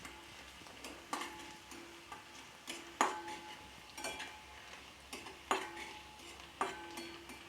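Ginger and garlic frying in a pan for chilli chicken, a faint, soft sizzle broken by a slow series of light spatula taps and scrapes against the metal.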